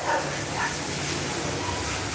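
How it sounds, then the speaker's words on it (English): Dogs barking somewhere in the background, a few yips and woofs over a steady broadband noise. "I don't know if y'all can hear these dogs barking in the cars"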